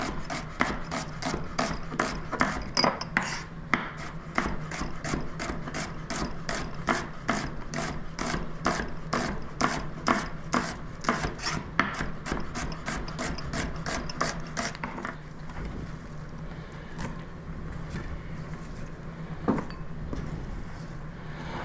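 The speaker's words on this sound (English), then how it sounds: "this is the best way to julienne your onion" A knife julienning a sweet onion on a cutting board makes rapid, even chopping strokes, dozens of crisp close taps in a steady rhythm that thin out near the end.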